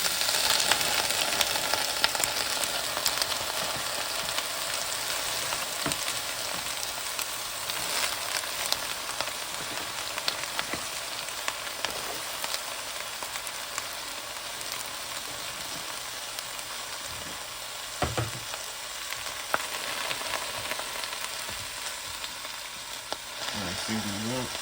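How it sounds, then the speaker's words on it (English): Cabbage with celery, white onion and pepper fries in a pan, a steady close sizzle running without a break, with occasional stirring scrapes and brief clatters and no talk. "We're gonna do some fried smothered cabbage."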